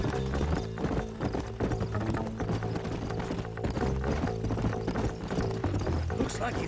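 Horses gallop in the Red Dead Redemption video game, rapid continuous hoofbeats under game music and voices, with a neigh in the mix and a busy, loud, dense texture throughout.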